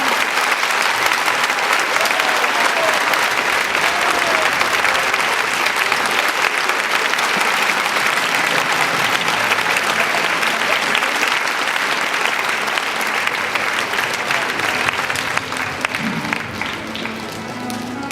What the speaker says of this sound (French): les professeurs Tang Nguyen et Edmond Petit, je demande pour eux un tonnerre d'applaudissements